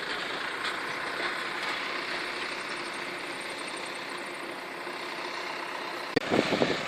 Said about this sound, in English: There's a tractor here now. He's going to tow this by the look of it.